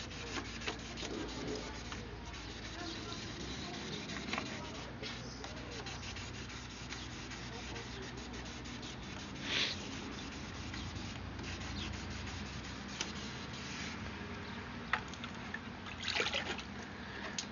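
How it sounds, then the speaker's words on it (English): Sandpaper rubs steadily across the plastic headlight lens of a 1995 Ford F250, making a continuous soft, wet-sounding scraping close by with light pressure and occasional brief louder swipes. "when you're sanding it, you don't really put that much pressure"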